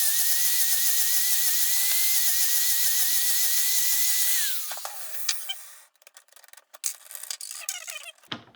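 A power tool bevels the edges of a steel door bar tube for a drift car roll cage, giving a loud high whine that then spins down into scattered scraping and grinding contacts.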